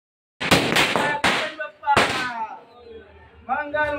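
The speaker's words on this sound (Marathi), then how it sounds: "सो असं फटाक्याने आगमन करतात गणपती बाप्पाचं." Firecrackers burst to welcome a Ganpati idol, sharp loud cracks coming in a quick cluster followed by another single bang, with voices and a bit of trailing noise between them.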